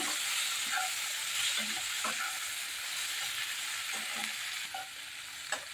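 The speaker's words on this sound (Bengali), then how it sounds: "ভালো করে আর একটু মশলাটা মিশিয়ে নিচ্ছি।" A spoon stirs spice paste and a small tomato in a frying pan, a steady sizzle of frying with scraping stir strokes and a few sharper clinks, close and alone without talk.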